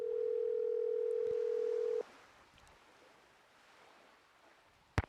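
In a Nancy Drew whale-watching game, a phone call aboard the boat rings out as one steady two-second tone through the receiver, then gives way to a quiet wash of sea ambience and a sharp click at the end.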